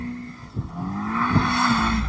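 BMW M5 CS drifting on a damp track, with a sustained engine drone and a wavering tyre squeal rising and falling, heard fairly close and loud.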